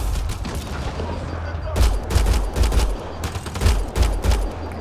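Bursts of rapid gunfire and booms from a Mass Effect: Andromeda firefight, loud volleys with deep low thumps recurring in clusters, a voice heard faintly beneath.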